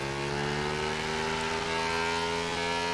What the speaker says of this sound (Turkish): Vallahi egzozla cayır cayır bağırıyor. Motor güzel abi.